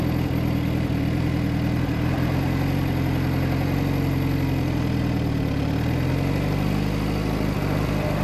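A motorcycle engine running a bit warm idles steadily close by, a continuous low rumbling drone with no talking.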